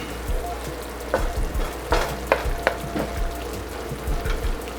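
Beef teriyaki and vegetables sizzling in a pan over medium heat, a steady close frying hiss broken by a few scattered scrapes and light clinks, with no talking.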